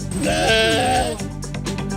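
Sheep from a flock bleat loudly and close, one long wavering cry followed by shorter overlapping calls.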